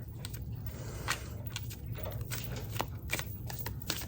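Tarot cards are shuffled up close, a run of quick papery riffles and taps in a quiet room.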